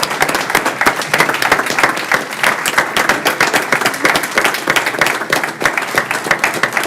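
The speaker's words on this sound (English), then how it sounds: "So if we could give Ms. Paola a round of applause for her tremendous work." An audience at a Lee County Schools Board of Education meeting applauds Ms. Paola with loud, close, many-handed clapping that holds a steady dense rhythm the whole way through, with no talking over it.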